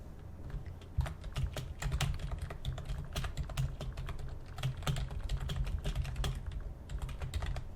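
Fingers type steadily on a computer keyboard, a close, quick run of clicky keystrokes with no voices.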